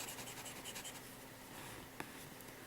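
A Platignum No. 5 Studio fountain pen with a slightly scratchy super-fine nib writes on paper, giving soft, close scratching strokes in a quiet room and ending with one small tap.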